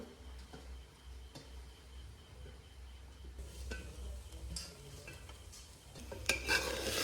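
Pilaf rice mixed with fried vegetables and paneer being stirred in a pan, giving quiet, close scraping and tapping of a spoon with a faint sizzle, getting a little busier near the end.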